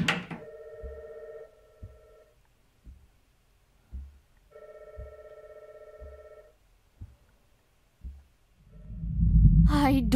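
A telephone rings in the video game Before I Forget, with two long electronic ring bursts and a short third one, separated by soft thuds and quiet gaps, before a low rumbling swell at the end.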